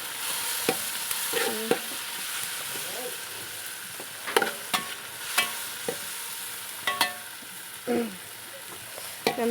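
Food fries in a pan, browning, with a constant sizzle beneath scattered scraping and clinking strokes of a spoon stirring at irregular intervals, close and moderately loud.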